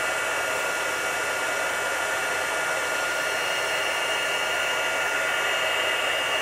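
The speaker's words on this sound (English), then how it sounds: "And now I'm going to heat it." A heat gun melts embossing powder on a craft project, producing a continuous close blowing hiss with a faint motor hum that holds steady and loud throughout.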